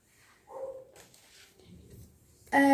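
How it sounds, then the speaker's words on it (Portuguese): A few short dog barks and yips sound at a distance, followed by a brief louder burst at the end. "Ignorem os cachorros latindo."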